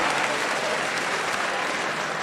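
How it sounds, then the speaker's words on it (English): An audience at a campus entrepreneurship event gives a dense, sustained round of applause, steady and fairly close throughout. "Let's give ourselves a round of applause."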